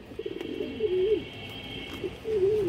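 A pigeon coos nearby, soft throaty calls rising and falling, two distinct coos with short pauses between, heard alone without speech.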